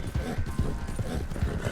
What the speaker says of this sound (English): He's got a very strong horse.